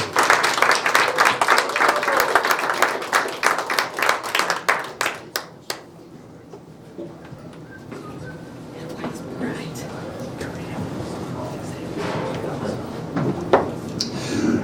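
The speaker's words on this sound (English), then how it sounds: "Nice round of applause for Wendy Berry." Loud applause from a candidate forum audience, dense clapping that fades after a few seconds into a murmur of voices and scattered claps.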